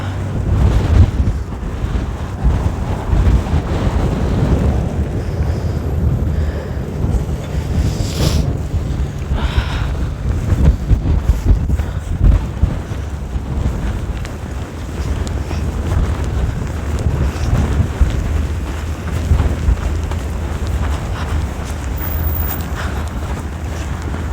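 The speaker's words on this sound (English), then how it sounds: "The wind is pretty strong." Strong wind during a freezing snowfall in Calgary roars and buffets the microphone in loud, continuous gusts for the whole stretch.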